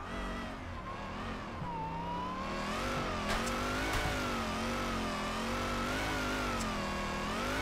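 Steady, loud car engine revving from a Mazda FD and a Mustang in the drifting game Torque Drift, pitch rising and falling with throttle and gear shifts over a continuous whine, with no speech.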